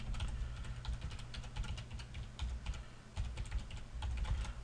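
Steady typing on a computer keyboard while building a website, a dense run of soft close key clicks with brief pauses, alone without voices.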